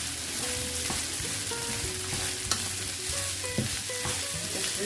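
Cooked rice being stirred and sautéed in olive oil for Senegalese-style fried rice with prawns, a steady close sizzle under irregular scrapes, taps and clinks of a utensil against the pan.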